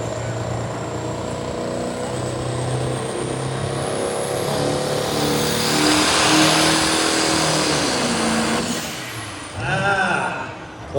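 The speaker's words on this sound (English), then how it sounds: "So Scott Mast out of Milford with the Ford. Spooling that up." Ford pulling truck at a county truck and tractor pull, its engine spooling up with a rising whine and roar that swells loud and then drops away, with an announcer talking over it.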